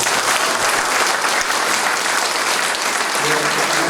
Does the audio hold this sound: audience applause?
yes